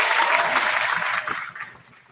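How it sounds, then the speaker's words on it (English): Live audience clapping and cheering for a guest named Savannah, a burst of applause that is loud at first and then tapers off and fades out within about two seconds. "But let's give her a cheer."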